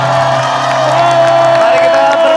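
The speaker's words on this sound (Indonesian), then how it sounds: "Tepuk tangan untuk Mayo." A studio audience at an Indonesian TV game show claps and cheers in a loud, sustained burst of applause with whoops, steady throughout and with no talk over it.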